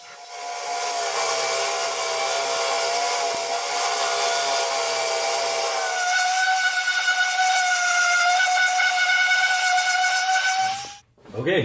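Woodworking router fitted with a long pattern bit cutting wood for a coffee table, a loud, steady high-pitched whine that shifts pitch midway and cuts off abruptly near the end.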